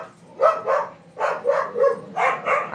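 Several dogs bark in a rapid series of about eight loud, close yips and barks spread evenly across the moment, with no talk over them.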